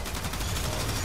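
Rapid gunfire from a Moa enemy in the video game Warframe, a dense continuous rattle of shots filling the whole moment, loud and steady with no talk over it.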